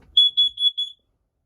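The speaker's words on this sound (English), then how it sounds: "Smoke detector above your head. You just hit that and hold that button." Smoke detector in a 2008 Forest River Wildwood 36 BHSSLE travel trailer sounding its test alarm, four sharp shrill beeps in quick succession, close and loud, then silence.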